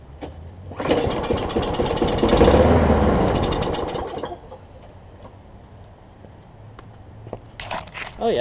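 A John Deere JS63 push mower engine, primed with starting fluid, kicks over and roars loudly for about three seconds, then dies away, leaving quieter rustling and small clicks.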